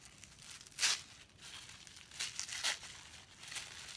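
Packaging crinkles and tears in a few short bursts as a small gift, apparently a pack of cards, is unwrapped, fairly quiet and close with pauses between.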